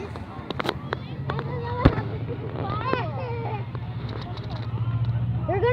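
Fireworks burst in a rapid, crackling string of sharp pops and bangs, some loud and close, others scattered farther off, over a low steady rumble while people talk and shout throughout.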